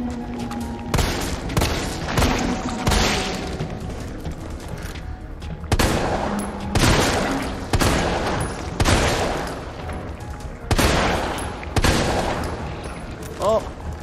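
Gunfire in the Resident Evil 3 finale: repeated sharp shots and booming bursts come in clusters across the stretch, loud and close, with brief lulls between volleys.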